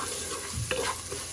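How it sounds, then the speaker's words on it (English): Rice frying and being stirred in a pan gives a close, soft sizzle with a few scraping stir strokes over a short stretch, without talk. "the rice, and then I'm frying it up a little bit"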